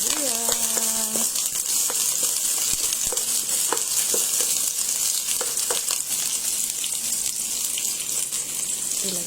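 Garlic and onion sauté in a pan for pork puchero, with a continuous close sizzle, scattered clinks and scrapes, and a brief tonal beep early on.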